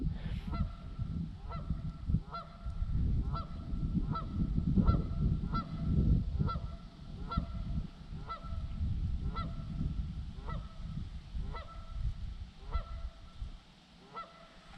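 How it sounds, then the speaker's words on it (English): Geese honk repeatedly in a spring wetland in big woods, a regular series of nasal calls carried at a moderate distance over a low rumble of wind and outdoor ambience. "I could listen to those geese all day."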